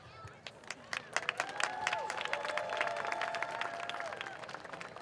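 Audience at a dance academy recital breaking into scattered claps and cheers, building into a moderate, fairly distant round of applause mixed with crowd chatter.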